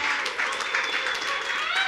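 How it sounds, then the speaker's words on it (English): Audience applause fills a meeting hall during an all-hands company meeting, a steady dense wash of clapping held at an even loudness throughout, with some voices mixed in. "we got to give a round of applause to Chance"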